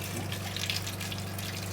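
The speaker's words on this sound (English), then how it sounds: "Put the funnel over it and pour Mizu straight into it" Mizu water is poured from a 5-liter bottle through a funnel into the black tank of a Deerma F600 diffuser, a faint continuous trickling stream over a low steady hum.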